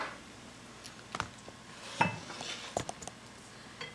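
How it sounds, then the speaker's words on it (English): A metal spoon scrapes and clinks against a pan while stirring caramelized onions on a stovetop, giving a few scattered soft knocks over quiet background. "just mixing them around with a spoon to get the even consistency"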